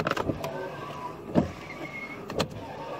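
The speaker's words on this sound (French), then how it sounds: "les essuie-glaces marchent, c'est bon signe" Car windshield wipers run, sweeping about once a second with soft rubbing swishes and mechanical whirs, quiet and close inside the car.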